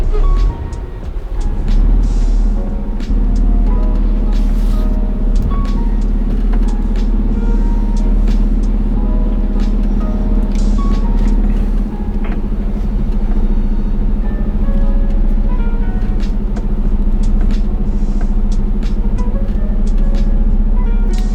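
A car engine rumbles and strains steadily as the vehicle sets off in traffic, a loud continuous low drone with faint clicks above it and no clear talking.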